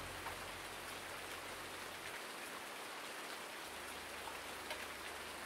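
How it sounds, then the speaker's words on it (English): Steady, even rain falls throughout in Farming Simulator 19, a dense continuous hiss of drops with no voices, its low rumble briefly dropping away midway. "Sure wish it quit raining."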